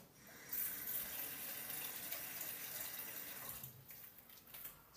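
Water pours steadily into a pot of Spanish lentils with potatoes, a continuous close gushing splash that briefly eases near the end, with no talking.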